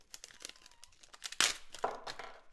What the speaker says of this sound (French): Et en ouvrant l'enveloppe.